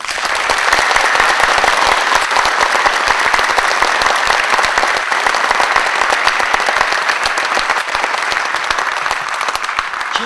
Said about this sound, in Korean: 먼저 새 후보를 소개할 때 큰 응원의 박수 여러분들이 해주시기 바랍니다